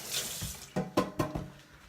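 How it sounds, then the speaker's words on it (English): A kitchen tap runs while hands are rinsed, giving a quiet close splash of water with a few sharper splatters in quick succession as the hands move under the stream, no talking. "I'm going to rinse my hands off."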